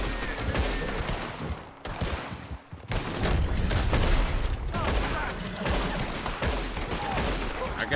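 Dense, rapid movie gunfire rattles in loud continuous bursts with brief pauses, a heavy barrage that dominates throughout.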